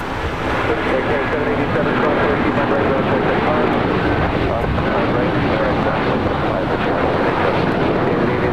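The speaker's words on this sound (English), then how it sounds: "SAS A330 now rolling down 25 right" An SAS Airbus A330 rolls down runway 25 right at LAX for takeoff, making a steady broadband engine roar that holds level throughout, with radio voices talking over it.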